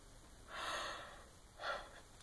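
A tired person's long yawn, breathy and drawn out for about a second, followed by a shorter breathy exhale, close and fairly quiet with no talk.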